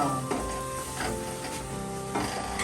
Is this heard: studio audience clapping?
no